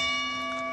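A boxing ring bell rings out with sustained metallic tones that fade slowly over under a second, with no talk over it.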